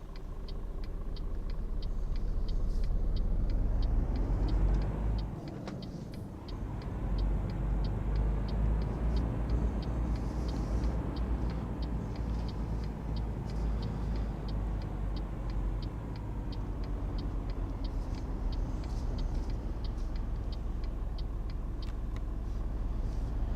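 A truck's engine drones steadily in Euro Truck Simulator 2 as the rig pulls away, with a low continuous rumble, a brief air-brake hiss early on and a faint ticking running throughout.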